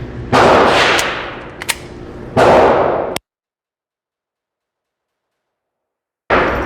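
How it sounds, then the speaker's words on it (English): Rapid shots from a Glock 44 .22LR pistol firing Fender ammunition sound as two dense bursts of close, sharp cracks, then an abrupt silence before the noise resumes. "we're gonna just go through 2 mags real fast here, see how it handles more kind of rapid fire"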